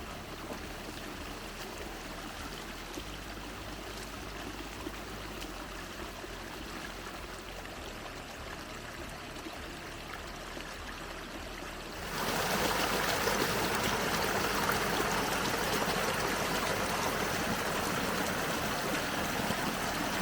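A small mountain waterfall in the Strawberry Mountain Wilderness gives a steady, close rushing flow that grows louder and brighter partway through.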